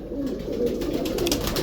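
A prized pigeon with a mild old paralysis coos close by in low, throaty, continuous rolling calls with no talk over it.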